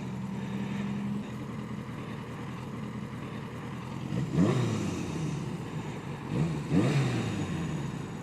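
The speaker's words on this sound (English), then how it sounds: "I can hear the valves." A Yamaha 750 Seca motorcycle engine running at a steady idle with a faint ticking valve clatter, plus a couple of short rising revs in the middle, heard from close by outdoors.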